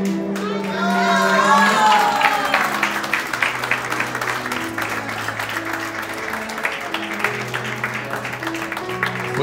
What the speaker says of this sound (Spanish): Fuerte los aplausos para Juan y Paola y su hijo Gaby.